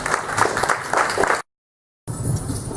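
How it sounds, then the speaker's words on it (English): An audience gives a round of applause at a business presentation, steady clapping for about a second and a half before a gap of silence and a brief return of crowd noise. "Can we give them a round of applause, please?"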